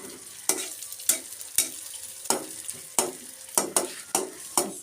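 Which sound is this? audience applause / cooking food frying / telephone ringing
cooking food frying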